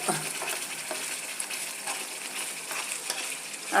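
Fried chilli sizzles in oil for a Kerala-style ginger curry (inji curry), giving a continuous soft crackling hiss with faint pops and stirring clinks, close and fairly quiet.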